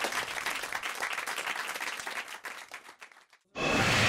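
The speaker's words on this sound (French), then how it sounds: "Paul, vous avez quand même fait du bon travail, on vous applaudit" Studio audience applause for a contestant on a French radio game show, a dense sustained clapping that thins and fades out near the end before a different loud sound cuts in.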